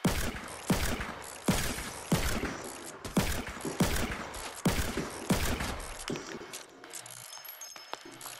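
Double revolver gunfire in a video game rings out as sharp, loud shots at a steady rhythm of about one every half second, then tapers off into quieter mechanical clicks.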